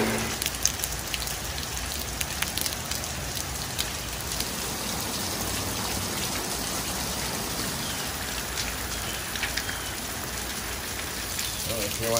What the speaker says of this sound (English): so we really didn't beat the rain